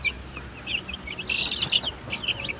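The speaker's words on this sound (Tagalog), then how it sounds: "ito na po ating mga sisiw" Chicks a few weeks old cheep steadily in a high, busy chorus of short peeping calls, fairly close and continuous over a low background rumble, with no talking.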